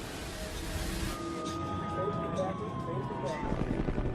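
Emergency vehicle sirens wail at a burning plane crash site, a wavering tone sliding up and down at moderate distance over a rumbling background din.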